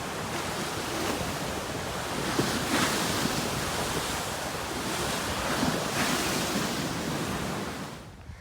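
Ocean surf breaks steadily at Kovalam beach, a continuous loud roar of rolling waves with wind buffeting the microphone throughout.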